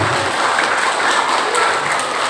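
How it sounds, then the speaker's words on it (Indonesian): Steady, dense applause from an audience at a Maulid Nabi celebration, cheering for the children, loud and continuous with no talk over it. "Inilah tepuk tangan untuk anak kita semua."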